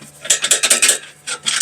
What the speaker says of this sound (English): Now I'm just threading it the rest of the way in with the regular ratchet.